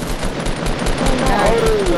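Rapid automatic gunfire in Fortnite rattles continuously for about two seconds, loud and close, with a faint game tone rising underneath.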